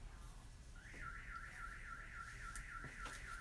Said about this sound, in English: Do you hear that car alarm? It's been going off for like a half an hour now.